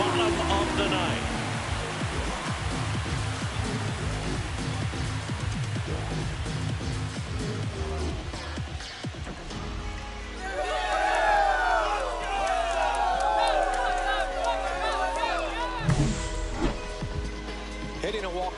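In the MLB The Show baseball video game, a home crowd roars and cheers after a walk-off home run, a dense, sustained wash of stadium noise under a commentator's voice.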